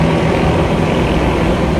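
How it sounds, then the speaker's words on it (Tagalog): A helicopter flies over Manila around an Independence Day flyover, a loud, steady broadband roar that fills the whole moment without pause. "Ito helicopter naman natin nakikita oh."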